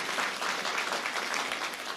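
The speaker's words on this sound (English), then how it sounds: "I'd like to give them all a big round of applause." Steady applause from an audience at a synagogue dedication ceremony, a dense, even patter of many hands clapping continuously at moderate volume with no voices.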